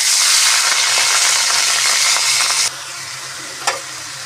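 Chopped green banana stem, seasoned with salt, turmeric and dried chili, fries in a pan with a loud, hissing sizzle that suddenly drops away, followed by a single brief clink.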